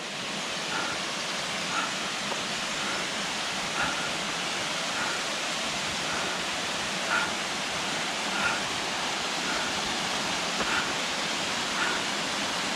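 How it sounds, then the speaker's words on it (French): A waterfall in the Gorges de Narvau gives a steady, broad rushing roar heard from a distance, unbroken for the whole stretch, with faint recurring ticks riding on top. "Oh, voilà la cascade."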